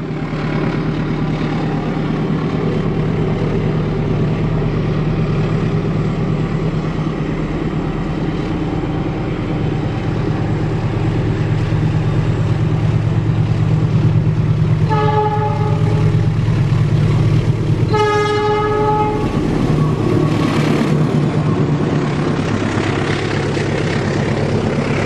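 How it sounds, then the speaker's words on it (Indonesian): The Mutiara Selatan passenger train climbs uphill with a loud, sustained rumble of engine and rolling wagons. Two short horn blasts sound midway through, and no one speaks. "Kereta menanjak, silahkan didengarkan ya."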